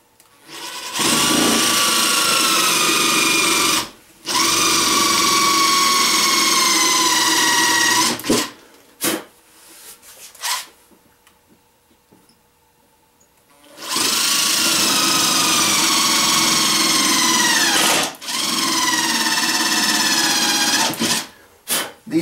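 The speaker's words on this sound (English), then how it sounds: "these impact drivers, they work great for self-drilling screws" An impact driver sinks screws into thick wood while building an ammo box, running in two long, loud buzzing bursts separated by short breaks and a quieter pause.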